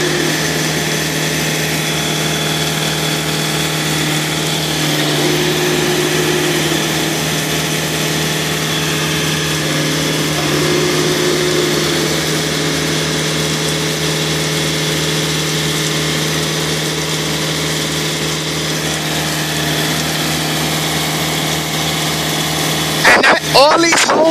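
A refrigerated trailer's reefer unit engine runs steadily at idle with a constant mid-pitched drone and hum, loud and close throughout, ending in a brief clatter; faint voices may sit under it.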